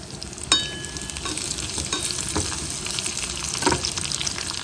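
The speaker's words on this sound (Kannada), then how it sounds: "ಸಿಪ್ಪೆ ಸಮೇತ ಜಜ್ಜಿರುವಂಥ ಬೆಳ್ಳುಳ್ಳಿ ಹಾಕ್ಕೊಳ್ತಾ ಇದ್ದೀನಿ" Crushed garlic cloves, skin still on, fry in hot oil with a continuous, close crackling sizzle, broken by a few sharp clinks and scrapes of a spoon against the pan.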